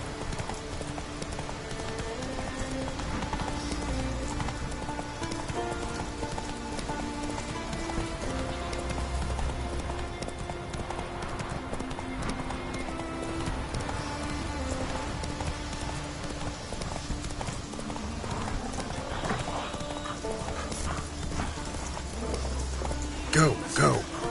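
Roach the horse gallops in The Witcher 3, a steady run of hoof clip-clops over continuous game ambience and music, with a person's voice talking along.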